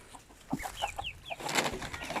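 A rooster kept among Arab chickens makes short clucking and chirping calls, several brief notes close by in a quiet yard, followed by a louder burst of mixed fowl calls.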